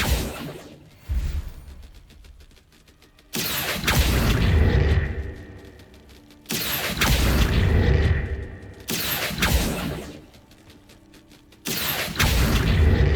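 Confringo fire-spell blasts in Hogwarts Legacy, four loud booming explosions with whooshing tails spaced a few seconds apart, each decaying into a rumble before the next.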